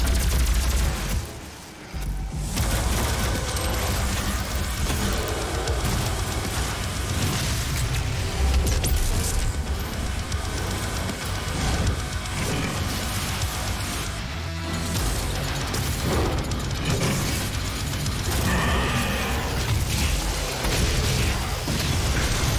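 Weapon fire in the shooter game Doom (2016), a dense, continuous barrage of loud booming shots and explosions layered over game music, with no pauses.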